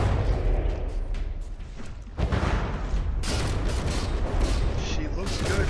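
Naval turret guns fire in a battleship video game, featuring the USS Tennessee, with a loud sudden boom that rumbles into continuous heavy roar and clatter of gunfire over a dense mechanical background.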